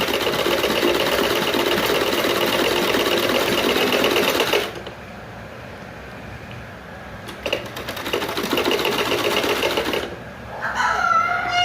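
A sewing machine runs a straight stitch on waste cloth for a baby frock, with a steady, loud mechanical whirring. It stops briefly twice, then starts again, close and alone without talk.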